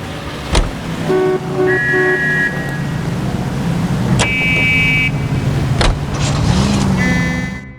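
Car driving in the video game L.A. Noire, with a steady engine and road drone, a few sharp knocks and brief horn-like tones over the top, and no talking.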